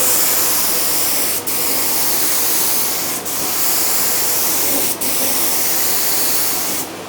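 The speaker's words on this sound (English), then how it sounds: "I'll spray this edge right now" A Graco HVLP 9.5 spray gun in a small workshop hisses continuously, a bright airy spray broken by three short pauses, close and steady with no talking.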